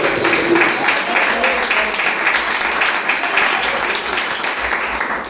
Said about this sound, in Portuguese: Palmas de Deus.